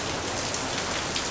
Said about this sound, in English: now the rain's settled in, and it's just been heavy and heavier than this with hail